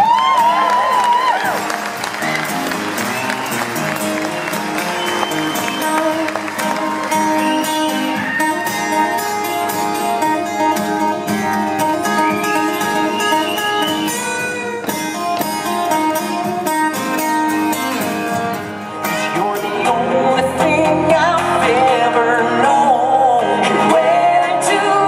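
A large audience at an acoustic tour show applauds and cheers for the band, a long, dense, steady roar of clapping and shouts that stays loud from start to finish.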